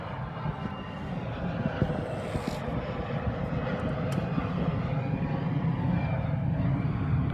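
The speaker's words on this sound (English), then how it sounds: "there's a lot of fucking planes keep flying over" Airplanes flying overhead outdoors produce a continuous broad jet roar that holds steady and swells slightly throughout, loud and unbroken, with no talking.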